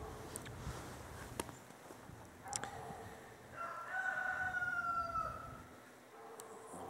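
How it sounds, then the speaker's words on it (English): A rooster crows faintly in the distance outdoors, a single long call rising over a background of low ambient noise, with a few scattered knocks and footsteps nearby. "I could shun the sound of that fucking crowing chicken and that fucking barking dog."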